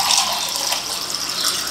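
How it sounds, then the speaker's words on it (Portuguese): Water pours steadily into bread dough while it is being mixed, a continuous soft splashing rush at moderate level with no talking. "Aqui eu tô preferindo acrescentar mais 150 ml de água."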